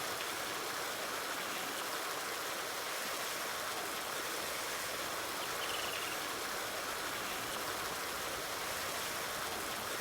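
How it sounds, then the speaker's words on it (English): Water pours continuously into a cow water tank in the Farming Simulator 19 video game, a constant, even, hissing rush with no pauses and no voices. "Here we can hear the water filling."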